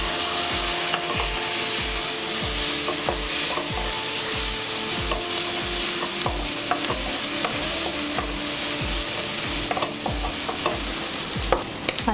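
Gongura prawn curry sizzles in a pan while a spoon stirs it in a fast, regular scraping rhythm, close and steady throughout with a continuous frying hiss underneath.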